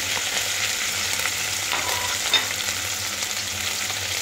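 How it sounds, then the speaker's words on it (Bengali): Dried loitta (Bombay duck) fish frying in hot oil, giving a steady, dense sizzle that holds evenly throughout with no talking. "তো আমরা এখন লইট্টা মাছগুলোকে তেলে দিয়ে দিচ্ছি।"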